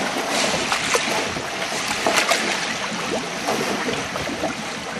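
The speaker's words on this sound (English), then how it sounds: "give it a good sloshing round, clean all the media" Water sloshes and churns steadily while filter media is swirled and rinsed clean, a dense, continuous splashing wash that stays fairly loud and close for the whole stretch, with no voices.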